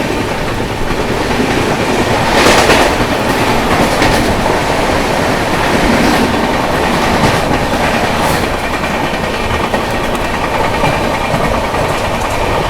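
The Howrah Rajdhani Express runs at speed through Durgapur, heard from inside a coach as a loud, continuous rumble with steady clickety-clack of wheels over rail joints and occasional louder rattling bursts, with no talk.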